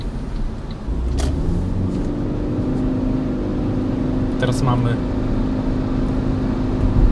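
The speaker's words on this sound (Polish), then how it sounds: "pokażę, jaka jest głośność Priusa przed wygłuszeniem" Toyota Prius cabin noise while driving at speed before sound insulation: a steady low road and engine drone fills the interior, with someone talking briefly over it.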